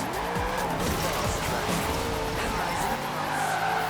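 Car drifting in Forza Horizon 4, a steady loud tire squeal and skid over a revving racing engine, continuous for the whole stretch with a shifting whine.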